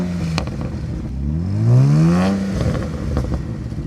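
BMW 335i with the N54 twin-turbo engine on its soft overrun exhaust setting, a rising then falling rev sweep with low burbling crackles and a few sharp pops, heard close up.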